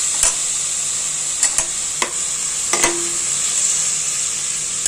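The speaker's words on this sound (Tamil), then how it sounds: "எல்லாத்தையும் வதக்கி விட்டுக்கலாம்" Ingredients for sambar rice made from leftover rice sauté in a pan with a continuous bright sizzle, broken by a handful of sharp spoon taps against the pan.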